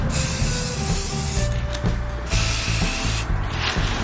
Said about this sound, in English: you're gonna spray paint